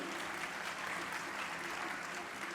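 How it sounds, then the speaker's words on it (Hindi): An audience at a Jain monk's discourse claps steadily, a dense, even wash of applause filling the whole stretch without pause. "ताली बजाइए।"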